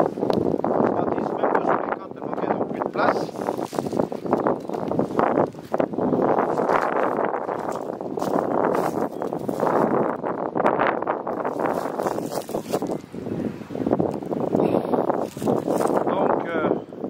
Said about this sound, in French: il y a tellement de vent que c'est inaudible, donc ça couvre tout ce que je peux dire